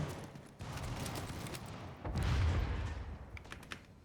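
Automated turrets firing in The Division, a faint, distant rattle of rapid gunfire and booms that swells in a heavier burst midway and then tapers off.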